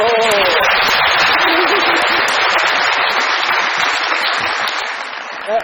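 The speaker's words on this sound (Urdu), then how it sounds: "بہت ساری تالیاں بجائیں" Loud studio audience applause on a Pakistani comedy talk show, a dense sustained wave of clapping that holds steady and then tapers slightly toward the end.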